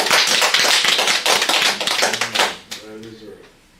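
Dense clapping from a crowd at a homecoming telethon for a few seconds, tapering off as a voice starts speaking over the fading applause.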